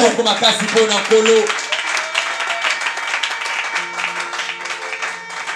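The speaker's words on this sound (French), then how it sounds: "Donne le fond d'acclamation à l'Éternel" A church congregation breaks into a burst of clapping and cheering, loud and close at first and then thinning out, with voices calling out and some sung or held tones underneath.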